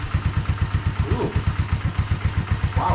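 A Honda ATC185S three-wheeler engine fitted with a Mikuni carburetor idles steadily, its fast, even rhythmic putter loud and close throughout, with no talk over it.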